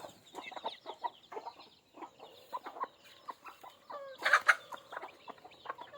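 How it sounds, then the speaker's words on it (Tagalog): Free-range chickens clucking nearby in summer in short, scattered bursts, with a louder, busier flurry of squawky calls partway through. "Ito yung mga manok ngayong tag-init"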